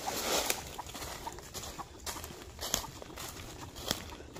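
Chickens clucking outdoors, including a hen with chicks, with scattered short calls over rustling movement and footsteps at moderate distance.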